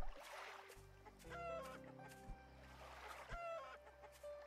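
Chicken clucking from a video game, with short stepped clucks rising and falling in quick bursts, fairly soft against quiet background game sounds and no talk.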